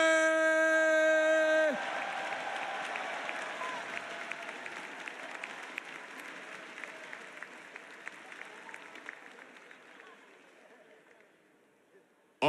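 Large crowd at the Evo 2017 Street Fighter V finals awards cheering and applauding loudly and steadily, after a sustained tone at the start, with the clapping slowly tapering off toward the end.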